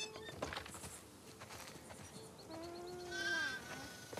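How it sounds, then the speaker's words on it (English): Sheep on a farm in the video game The Last of Us Part II bleat a few times in short, wavering calls, fairly close and alone, over soft footsteps and ambient background. "Listen up, sheep."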